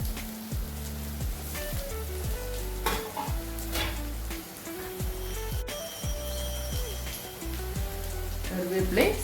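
Chopped tomatoes and curry leaves sizzle and fry in a pan, with repeated scraping stirs and a steady crackle close by, a voice talking faintly over the cooking.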